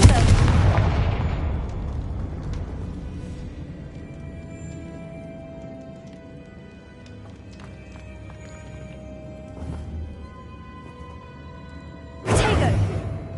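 Confringo blasting spell explosions in a Harry Potter video game go off as loud booming bursts at the start and near the end, with a quieter rumbling decay and faint effects in between.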